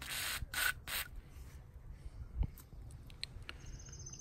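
Three short hissing squirts of spray lubricant on a brush hog wheel bearing, close and fairly quiet, followed by faint clicks and light handling noises.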